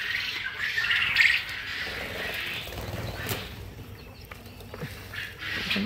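Farm-raised quail give a busy chorus of squawks and chirps, a sharper call standing out early, with a steady murmur of birds around.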